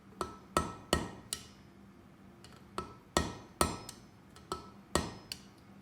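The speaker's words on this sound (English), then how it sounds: "I'm using the ball peen side just so I want the material to move there" A ball peen hammer strikes hot steel on an anvil while forging a heart, with about a dozen sharp metallic blows at an uneven working rhythm, some hard and ringing, some lighter taps between them.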